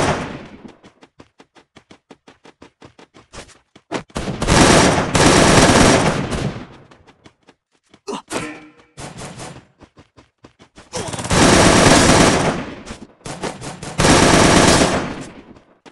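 Automatic gunfire in the battle royale game Free Fire during a squad fight, with sparse single shots and short bursts giving way to loud, sustained full-auto volleys, some long rapid strings of shots.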